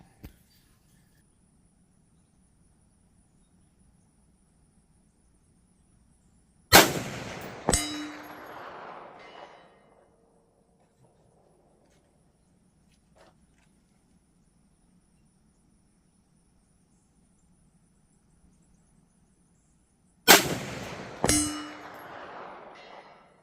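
350 Legend bullets striking a steel target plate at 500 yards: two separate hits, each a sharp metallic clang followed a moment later by a second ringing ding, over a faint insect hum in otherwise quiet surroundings.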